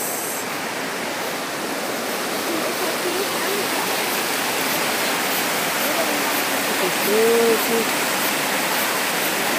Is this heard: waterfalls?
yes